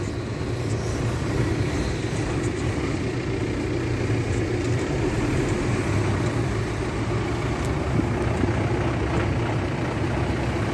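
A truck pulls away on a town street in the morning, its heavy engine rumbling steadily and fairly loud throughout, with no clear fade as it leaves.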